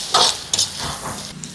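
Hot frying oil poured into a pan of beef roast, giving short loud sizzling bursts followed by a softer crackle.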